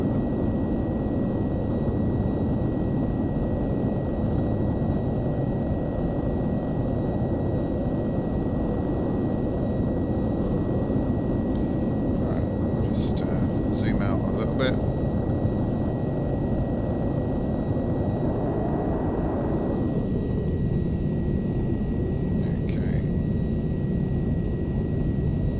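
Airplane engine drone in the X-Plane 11 flight simulator on a slow landing approach, a steady loud rumble with constant tonal whine, brief cockpit beeps and chimes partway through, no talking.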